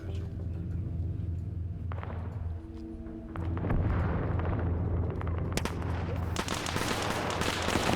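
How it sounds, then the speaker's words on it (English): Missile blast in a modern military game, a heavy explosion that erupts partway through with a loud sustained roar and crackle, following quieter engine hum and scattered gunfire, no talk. "That was a missile"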